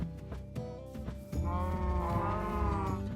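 Cattle in Minecraft give short bleating moos, a few brief calls and then a longer one, close and fairly quiet while a player herds cows through a meadow.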